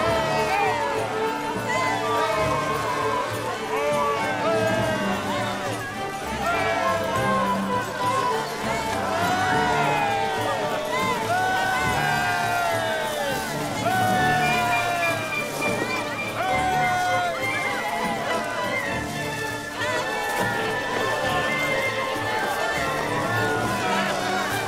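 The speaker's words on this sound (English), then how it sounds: "Crowd and crowd of people jump and prance and praise God" A large crowd cheers, shouts and praises God in a Jamaican Patois Jesus film, a busy wash of many excited voices calling out over one another, with distinct people talking amid the din.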